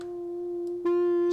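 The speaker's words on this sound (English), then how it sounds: "we're going to add just a tiny bit of distortion, and we're going to go with the overdrive here" A synth keys patch built in Serum 2 with gentle overdrive distortion, a steady sustained tone that swells brighter and richer in harmonics as a second note joins partway through, playing alone.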